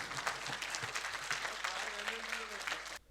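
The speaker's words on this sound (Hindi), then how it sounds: "ज़ोरदार तालियों से आप उनका इस्तकबाल कीजिए।" An audience at a mushaira poetry gathering in Ludhiana's Guru Nanak Dev Bhawan applauds, scattered claps thick at first, a voice audible beneath, before cutting off abruptly.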